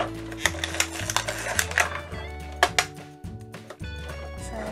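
A friction-powered Fireman Sam Jupiter fire engine toy is pushed and run, giving a rhythmic whirring rattle in repeated bursts with sharp clicks and taps, close and fairly quiet.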